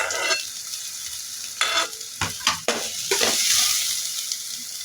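Garlic, onion and ginger hit hot oil in a pot for tinolang longganisa, an initial hiss followed by a series of loud spoon scrapes and clatters over a sustained frying sizzle.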